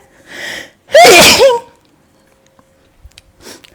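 A single loud, close sneeze bursts out while cooking with chili powder, preceded by a short breathy intake and followed by quiet clicks and shuffling.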